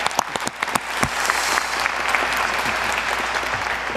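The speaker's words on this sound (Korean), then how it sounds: "박수 부탁드리겠습니다" A crowd at a Korean presidential event breaks into steady applause, sharp claps first, then building into a dense, sustained ovation.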